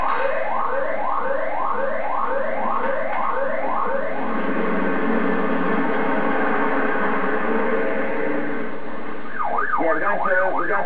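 A fire station alarm wails, rising and falling continuously and loudly, with repeated sweeping tones early on and a faster warbling pattern near the end.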